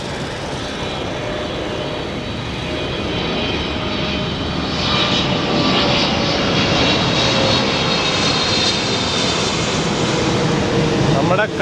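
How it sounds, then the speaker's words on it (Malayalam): A fixed-wing airplane passes low overhead, its loud roaring engine building and swelling steadily across the whole stretch, with a person talking underneath the noise. "വിമാനം ഒന്ന് പോയി കഴിയട്ടെ."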